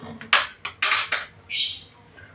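Clattering metal lid and pot handling as a cooking pot of stewed beans is opened, with several sharp close clanks and a brief scraping ring, no talk.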